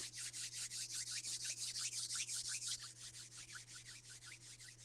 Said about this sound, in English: And then rub your hands.